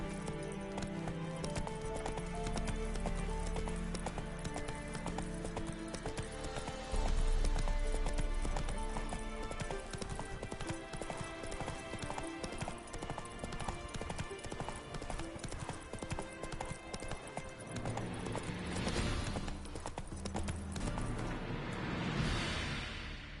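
Horse in the video game The Witcher 3 galloping, hooves clip-clopping in a fast continuous rhythm under loud orchestral game music for the whole stretch, with a brief whinny-like burst near the end.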